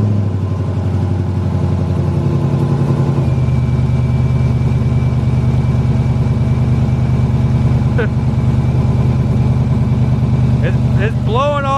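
Car engine running through headers exhaust, a loud steady low rumble that idles continuously close by, with people talking over it near the end.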